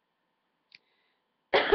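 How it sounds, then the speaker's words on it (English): One harsh cough bursts out close to the microphone after near silence and a faint tiny click, short and loud, with no talking. "I have a really bad cough."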